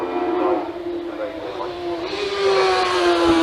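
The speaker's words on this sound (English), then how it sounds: "Oh, that's a bike engine for sure." A Robin Hood kit car powered by a Yamaha motorbike engine passes at a retro car gathering, a loud high-revving engine tone rising as it approaches, with crowd noise around.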